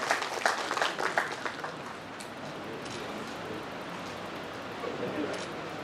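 An audience at a CRPF ex-servicemen welfare gathering claps, first with a few scattered louder bursts, then settling into dense, sustained applause that sounds like rain and carries on at moderate distance.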